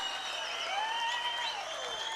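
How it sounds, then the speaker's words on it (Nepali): A political rally crowd in Nepal greets a speaker with sustained applause, a continuous wash of clapping with some high whistle-like tones riding over it, loud and steady throughout. "जोरदार तालीले स्वागत गरिदिनु होला"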